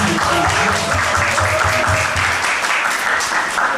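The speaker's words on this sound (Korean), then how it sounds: "정말 우리 박수 한번 칩시다" Church members clap together in a sermon's pause to honor their pastor and his wife, a loud dense burst of applause close by, with some low murmuring under it early on.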